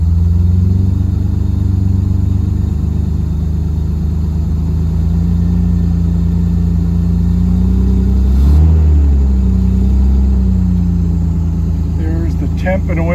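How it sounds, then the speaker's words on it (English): A 60BN7's engine runs right after a cold start, with the choke out. A loud, steady, close low rumble holds throughout with only slight swells. "Here's the motor run."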